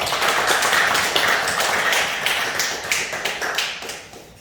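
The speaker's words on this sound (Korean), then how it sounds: "박수 하나님께 드리겠습니다." A church congregation claps in a close, lively burst of many hands that gradually thins and fades out over several seconds.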